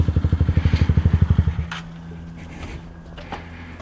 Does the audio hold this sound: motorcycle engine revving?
yes